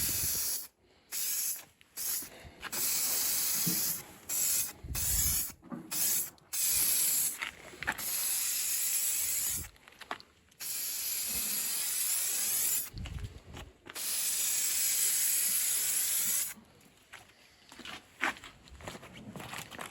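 Spray paint from an ordinary non-rattle can hissing onto stripped metal during a loggia restoration at a Tuscan villa, in repeated bursts of varying length separated by short pauses, close and fairly loud with no talking.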